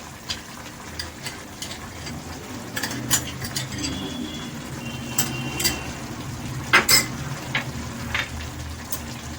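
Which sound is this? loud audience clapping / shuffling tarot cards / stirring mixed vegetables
stirring mixed vegetables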